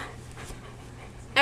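A heavy, well-fed female dog pants softly and steadily nearby, faint rapid breaths throughout, ending with a brief louder burst of noise.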